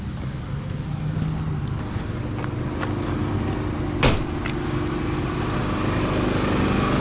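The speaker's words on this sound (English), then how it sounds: "Wow, the generator sounds like it's pretty loud." An RV generator runs loudly and close by, a continuous rough engine drone at a steady level, with one brief sharp noise partway through.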